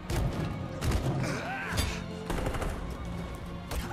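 Gunfire in the video game Detroit: Become Human, a dense battle mix of repeated sharp shots and thuds over continuous background rumble, with occasional voices underneath.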